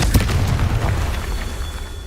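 A Confringo fire-blast spell cast in Hogwarts Legacy lands as a loud booming burst, with a sharp explosive onset near the start and a rumbling tail that fades over the next two seconds.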